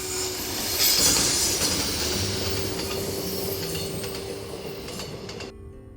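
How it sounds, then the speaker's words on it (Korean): A train runs along the slow, winding Gyeongjeon line toward Naju, its steady rumble and rolling wheel noise carrying on continuously at moderate loudness, with no voices present, before the sound drops away near the end. "삼당진에서 출발해 쉬엄쉬엄 달려온 열차는 나주를 향한다."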